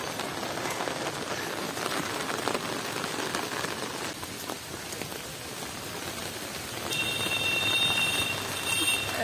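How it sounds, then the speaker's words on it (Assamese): Heavy rain pours steadily outside, a dense continuous hiss of drops drumming on surfaces with no break, loud and close throughout. "বাহিৰত ইমান বৰষুণ দি আছে"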